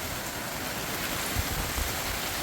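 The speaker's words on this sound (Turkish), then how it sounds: "yağmur yağıyor oğlum" Heavy rain pouring down outside a house, a steady dense hiss of drops drumming on surfaces with no talk.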